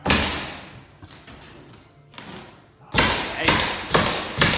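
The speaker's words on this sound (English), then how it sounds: "so our Milwaukee Generation 2 Brad Nailer, we are very happy with" A Milwaukee Generation 2 brad nailer fires into a beadboard ceiling, each shot a sharp, close thud; a few spaced hits come first, then a rapid run of four or five bump-fired shots, with people talking around them.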